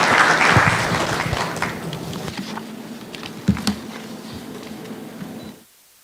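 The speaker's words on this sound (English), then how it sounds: "Please give her a round of applause." Dense audience applause at the Africa Employers' Summit 2025 in Nairobi, loud at first and gradually thinning, with a few sharper claps near the end before it cuts off.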